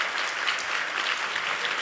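Steady, dense applause from an audience honoring entrepreneurs of color at the Innovator of Color Awards, ASU+GSV 2021, sustained and even throughout with no voices on top.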